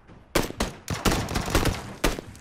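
Rapid bursts of gunfire in the video game PUBG: Battlegrounds crack out in quick succession, loud and close, several shots overlapping in a short volley.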